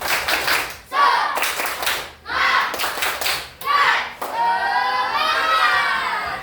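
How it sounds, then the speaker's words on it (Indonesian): A group of children does a rhythmic spirit clap, with bursts of synchronized clapping broken by short pauses and then shouting and cheering voices, close and loud. "Tepuk semangat"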